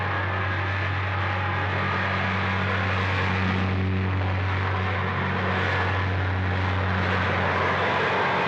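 Propeller airplanes fly steadily nearby, their engine drone and low hum continuous throughout with slight swells, heard alone with no voices.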